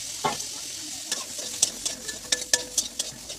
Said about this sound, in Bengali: শিমগুলো অল্প পরিমাণে ভেজেছি